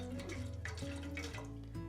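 Water glugs into a metal billy can in a soft, continuous pour whose tone climbs in stages as the level rises, close and fairly quiet.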